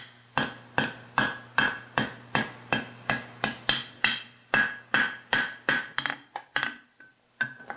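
A farrier hammers a bar shoe on the anvil, about twenty sharp ringing metal strikes in a steady rhythm, close and loud, slowing and breaking off near the end.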